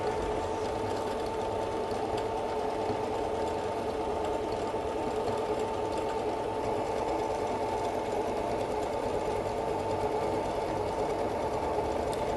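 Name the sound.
Singer 7465 sewing machine sewing decorative stitches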